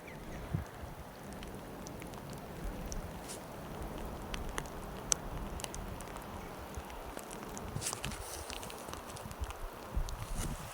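Steady outdoor rain patters without a break on the first day of April, a soft broadband wash with scattered brighter drop ticks and no voices.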